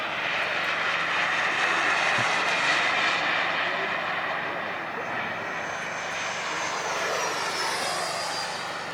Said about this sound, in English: This jet's just flying around out here.